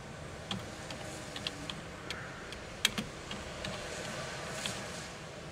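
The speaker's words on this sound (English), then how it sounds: "in the search bar type in vintage chart" Faint, scattered clicks of typing on a computer keyboard come in short, irregular taps, with one sharper keystroke standing out, all over a quiet room hum.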